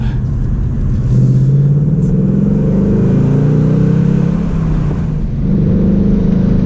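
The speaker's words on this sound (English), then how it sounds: "Just dropped the clutch there and this baby took off." A manual car pulls away hard after the clutch is dropped, its engine rumbling loud and steady as it accelerates for several seconds, with no talk over it.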